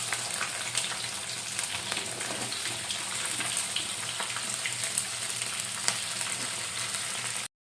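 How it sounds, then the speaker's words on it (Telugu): Onions and green chillies fry in hot oil with a loud, dense, even sizzle that continues unbroken at close range, then cuts off abruptly at the end. "ఉల్లిగడ్డలు పచ్చిమిరపకాయలు కట్ చేసి పెట్టుకుని వేపుకున్నాం కదా, వేపుతున్నాం"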